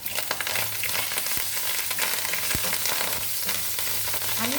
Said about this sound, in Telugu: ఇప్పుడు ఇందులో కరివేపాకు వేస్తున్నాను